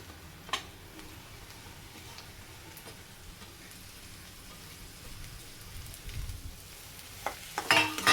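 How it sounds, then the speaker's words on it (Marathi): Chopped chilies hit hot oil in a pan and sizzle with a steady crackling hiss, with a few clinks of a utensil and a louder burst of spattering near the end. "आता याच्यामध्ये मिरची टाकू आपण चिरलेली."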